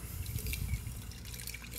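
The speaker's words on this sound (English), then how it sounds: "I'm going to first preheat it with hot water" Hot water poured into a 32-ounce French press glass carafe to preheat it, a close, steady gurgling stream that runs throughout without speech.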